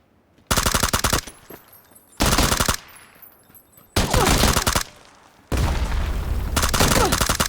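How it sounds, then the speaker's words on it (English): Rapid automatic gunfire in PUBG, four loud close bursts of rattling shots separated by short gaps, the last burst running longest. "And someone's shooting at me."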